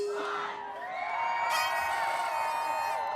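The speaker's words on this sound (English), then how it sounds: "And the cheering." A crowd on the NYSE trading floor cheers and whoops just after the opening bell rings, a loud, sustained roar with overlapping shouts that swells at the midpoint and holds steady.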